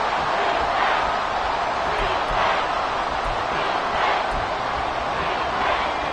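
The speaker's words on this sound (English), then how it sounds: "This crowd turning up the decibel level." A football stadium crowd roars in a dense, sustained wall of cheering and shouting on third and long, loud and unbroken throughout.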